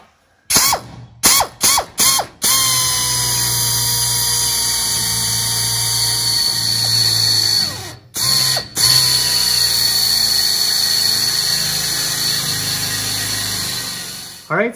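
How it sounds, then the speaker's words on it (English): An electric drill bores holes into a radiator to fit rivet nuts, with several short close bursts at the start, then a long continuous whine, followed by more brief bursts. "So I'm going to drill those now."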